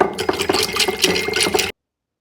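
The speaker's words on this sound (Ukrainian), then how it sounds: "Я розбавляю простою водичкою" Plain water is poured into collagen powder to dilute it, giving a short, close, splashy trickle that ends abruptly after under two seconds.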